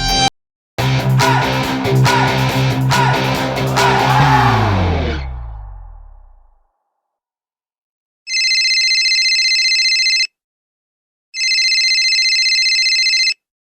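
Following a stretch of music that fades out, a phone's incoming-call ringtone chimes in two bright bursts of about two seconds each, separated by a short silence.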